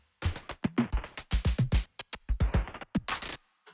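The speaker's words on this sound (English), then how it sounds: "So you can hear it shifting the frequency there." A glitch-processed drum break with random frequency shifting, choppy stuttering hits and bursts in an irregular rhythm, close and moderately loud, cutting off to silence at the end.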